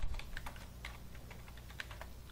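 Keys clatter steadily on a computer keyboard while data is entered into an Excel spreadsheet, a quick run of close, crisp clicks over a low background hum with no talking.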